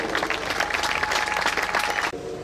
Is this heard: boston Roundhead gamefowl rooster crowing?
no